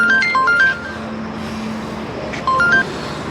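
A mobile phone rings with an incoming call, playing two short melodic ringtone phrases of bright beeping notes over a steady low road hum.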